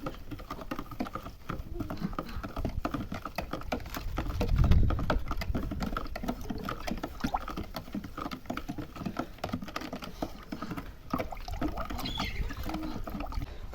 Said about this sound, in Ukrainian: 6 столових ложок солі і 3 цукру. Гарненько розмішуємо.